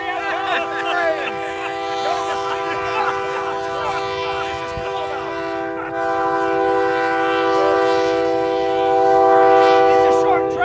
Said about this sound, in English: It's a very short train.